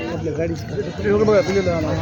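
Goats bleat amid the bustle of a busy goat market, several overlapping calls mixed with someone talking close by.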